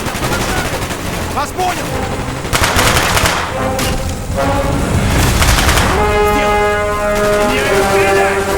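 Gunfire in Call of Duty Black Ops: loud sustained automatic bursts and rattling volleys, close and continuous, with in-game radio voices calling out and a tonal alarm-like drone in the latter part.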